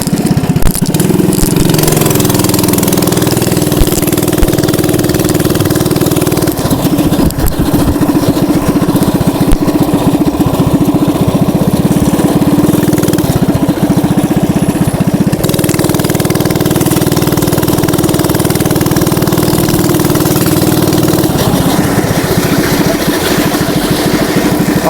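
A mini bike engine runs loud and close while being ridden on a road in Phoenix, holding a steady buzzing drone with brief dips and surges in speed and some wind rumble.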